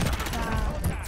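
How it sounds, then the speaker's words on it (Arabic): Rapid gunfire in the Call of Duty Warzone video game, a continuous loud burst of overlapping shots filling the moment, with players' voices mixed in underneath. "رصاص من ورا ديروا بعض"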